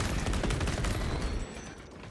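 Heroic bolt pistol fire in a video game, loud close bursts of rapid shots rattling together in a continuous barrage that cuts off abruptly, leaving quieter background noise.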